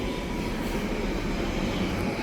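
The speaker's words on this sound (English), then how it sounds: "Here's the choo-choo train." A train pulling into Buckhurst Hill station in Essex gives a continuous low rumble and rolling wheel noise, steady and fairly loud throughout the short stretch, with no voices.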